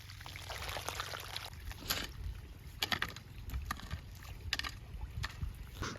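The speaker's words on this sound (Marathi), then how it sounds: "आता पाणी सोडण्याचं काम चालू" Irrigation water is let out across a rocky-soil watermelon field, making a quiet, continuous trickling flow over a low outdoor rumble, broken by scattered splashes and knocks.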